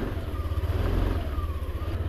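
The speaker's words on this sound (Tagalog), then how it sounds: "ato i-test try atong bag-ong motor." A new motorcycle engine runs in a steady low throbbing idle with a slight rising rev, close and fairly loud, with no voices over it.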